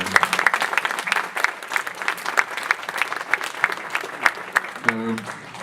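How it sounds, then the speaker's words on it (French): A conference audience claps for itself, a close, lively burst of many hands with sharp individual claps that continues steadily, and a voice cuts in briefly near the end. "Vous pouvez vous applaudir."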